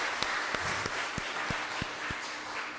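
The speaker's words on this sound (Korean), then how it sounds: "우리 한번 격려하는 박수를 마음을 담아 해주시면 고맙겠습니다" A church congregation at Sunday worship claps in encouragement, a soft, distant spread of applause with a few sharp, close single claps standing out at uneven intervals.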